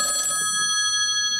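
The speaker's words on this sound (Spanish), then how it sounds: "Este teléfono ha sonado todo el día." An old-style telephone bell rings in a stage production, a bright metallic trill that cuts off after a fraction of a second and leaves a steady ringing tone hanging. No one speaks.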